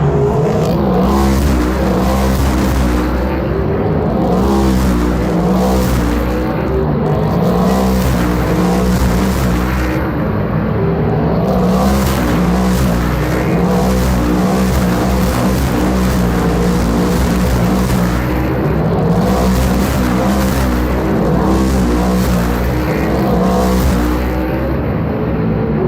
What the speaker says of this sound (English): to be able to record all of the race cars actually going through, so you guys can actually hear how loud it gets